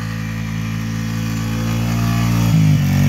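A lifted Honda 300 ATV engine drones steadily as it spins donuts in snow, a close, loud, sustained hum that swells slightly and shifts pitch near the end as the throttle changes.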